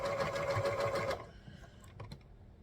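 A sewing machine runs steadily for just over a second while a quilt row is sewn onto the top, then stops, leaving faint handling and fabric noises.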